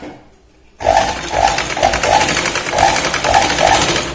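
A sewing machine stitches the shoulder seam of a boat-neck kurti, starting after a brief quiet moment and running steadily with a rapid mechanical rattle and a repeating rhythmic pulse, close and loud, with no voices.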